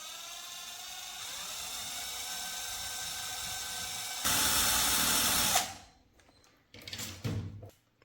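A power tool lightly grinds both sides of a lithium-ion battery pack while converting a Black & Decker screwdriver from AA cells. A steady whining drone runs for about five seconds, surges louder, then cuts off, followed by a few short bursts.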